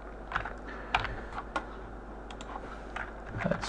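Scattered keystrokes tap on a computer keyboard in short irregular clusters, close and moderately loud over a faint steady hum.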